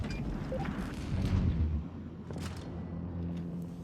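Tank cannon shots from a Defender Mk.1 in World of Tanks Blitz: heavy booming reports over a low mechanical rumble, with a strong blast near the middle and another sharper shot shortly after.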